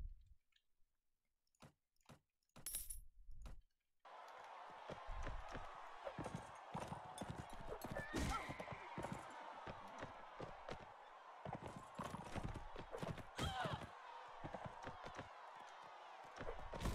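A horse gallops in the video game Mount and Blade Bannerlord. Dense, irregular hoof thumps and clatter run quietly and continuously after a few sparse knocks at the start.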